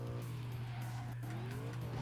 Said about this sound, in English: I'm skidding all over the place here